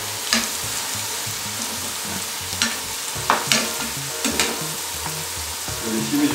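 Salmon sautés with onions and chili in a pan for a salmon curry, a steady sizzle broken by several scrapes and stirs of a utensil against the pan.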